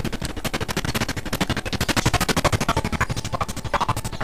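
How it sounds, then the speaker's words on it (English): Homing rockets fire in rapid succession in Transformers: Dark of the Moon, playing as Starscream: a steady, fast, rhythmic stream of punchy blasts, loud and continuous, with no talking over it. "these are homing rockets"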